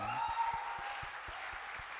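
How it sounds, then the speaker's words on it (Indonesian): Clapping from an audience at a podcast event, a steady patter of hand claps over a noisy room, with a tonal sound near the start. "Wis, tepuk tangan dong."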